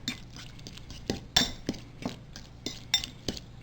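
Loaded egg salad is mixed in a bowl with a utensil, producing a quick series of soft clinks and scrapes against the bowl, close and fairly quiet with irregular rhythm.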